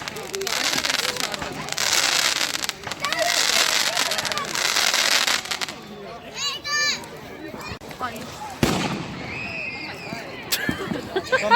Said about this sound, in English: Oh, the fireworks bar was so funny.